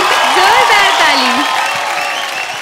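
Audience applause on a Bhojpuri singing reality show rolls as dense, steady clapping and some cheering, gradually easing, while a voice speaks over it.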